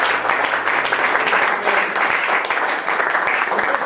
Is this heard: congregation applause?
yes